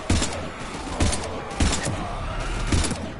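Gunfire from the video game Mass Effect 3 comes in a dense, noisy battle mix, with repeated bursts of shots and thumps layered over a constant roar of combat.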